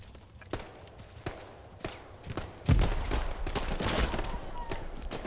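Machine gun fire in the World War II shooter Hell Let Loose, sharp repeated bursts at first, then a denser rattling volley building mid-clip amid battlefield noise.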